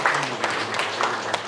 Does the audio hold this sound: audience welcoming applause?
yes